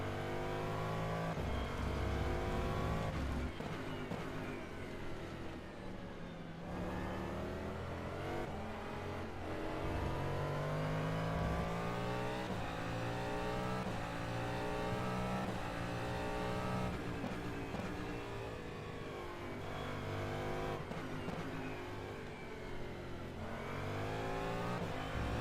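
A Cadillac DPi hypercar at speed in the rFactor 2 racing game at the Nürburgring, its engine howling loud and steady with repeated upshifts and sweeping pitch rises and drops through corners.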